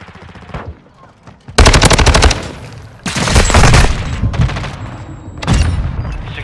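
Loud rapid automatic gunfire in Modern Warfare II Domination on the Shoot House map, several close bursts of a second or so separated by brief quieter pauses.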